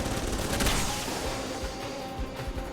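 Gunfire from the PC video game Alpha Protocol: a dense, loud burst of rapid shots with heavy recoil fills the opening second, then trails into sparser, scattered shots and impacts over steady game noise.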